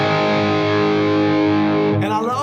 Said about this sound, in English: here's our mid-gain tone with the Marshall Silver Jubilee